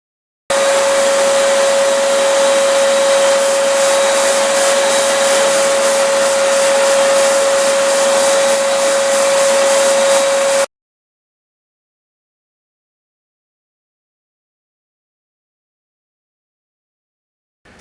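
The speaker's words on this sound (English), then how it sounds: "I'm going to go ahead and fire up the vacuum cleaner. It'll be a little bit loud for a minute." A vacuum cleaner runs loud and steady for about ten seconds while dust is cleaned out of a home furnace, then switches off abruptly into silence.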